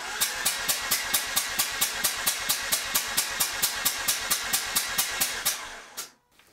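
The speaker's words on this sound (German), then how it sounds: "Der Gang muss natürlich draußen sein und dann 5 bis 6 Sekunden orgeln lassen." A Mazda RX-8 rotary engine cranks over on the starter with the gear out during a compression test, giving about two dozen steady, evenly spaced pulses for roughly six seconds before it stops abruptly.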